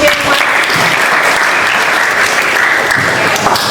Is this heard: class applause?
yes